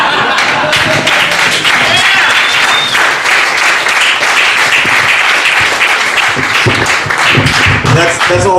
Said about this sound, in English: A round of applause if you think Mr. Thomas is innocent.